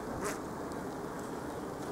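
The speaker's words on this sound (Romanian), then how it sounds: "Albina era foarte agitată, plângea din aur, când l-am deschis pe el." Agitated honeybees in a freshly opened beehive produce a dense, steady buzzing drone that fills the space, close and continuous with no talking.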